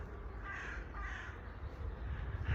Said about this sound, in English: And a crow talking to us, flying away.